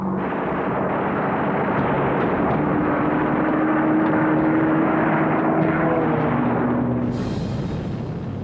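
Engines of a WWII US Army Air Force bomber on a daylight raid over Germany drone in a loud, continuous roar that holds steady throughout, with no voices.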